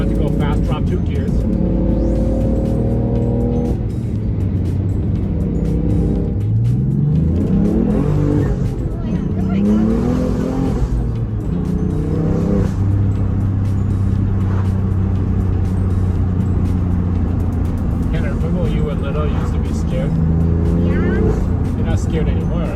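A Dakar Yellow 2016 BMW F80 M3 engine revs and pulls hard through the gears, its tone rising and dropping with each shift, steady and close, while people talk over it inside the car.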